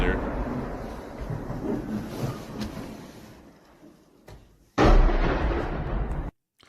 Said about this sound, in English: I also hear an explosion out there